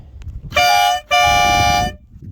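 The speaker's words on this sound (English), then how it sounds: "There we go, there's your little train horn." A Harbor Freight air train horn mounted on a 2021 Yamaha Rmax sounds two loud, steady blasts close by, the first short and the second longer, separated by a brief gap.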